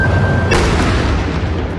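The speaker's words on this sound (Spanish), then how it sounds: "Esta es la explosión controlada que realizó la unidad antiexplosivos de la policía" A police bomb squad detonates dynamite in a controlled explosion in a Guayaquil neighborhood: one loud, sudden boom followed by a rumbling, decaying roar.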